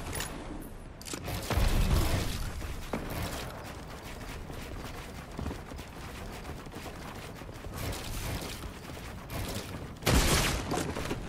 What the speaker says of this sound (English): Are you really gonna shoot me down